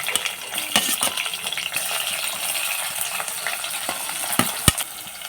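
Chopped onion and green chillies fry in oil in a pan for a curry, giving a continuous close sizzle with frequent crackles and one sharp pop near the end. No one speaks.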